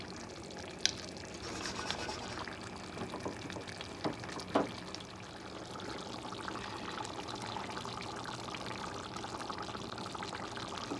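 Vinegar is poured while preparing rice for chicken biryani, a steady, soft trickling stream lasting several seconds with a couple of light clinks, heard close and alone in a quiet kitchen.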